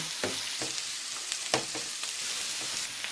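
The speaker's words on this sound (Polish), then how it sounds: "I przez chwilę będę podsmażać do momentu, kiedy pietruszka i marchewka zmiękną." Carrot and parsley root fry with glazed onion and leek in a pan, giving a steady dense sizzle with repeated scraping stir strokes every half second or so, close and continuous with no voices.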